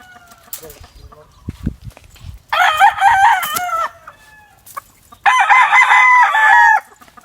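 A gamefowl rooster of Clipper Hatch bloodline crows twice in loud, drawn-out bursts, with soft clucks and a few quiet voices in the gaps between.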